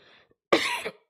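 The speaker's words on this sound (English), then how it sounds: "I'm trying to hold back this cough." A single harsh cough bursts out after a moment of near silence, loud and close, following faint held-back throat sounds.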